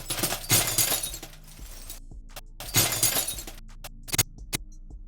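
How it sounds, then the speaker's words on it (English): Two heavy bursts of thick glass shattering as larger pieces break, each spraying into crunchy breaking debris, followed by scattered sharp clinks and small pieces falling, close and loud. "Let's look for a thicker sound to fit the larger pieces that are breaking in the animation."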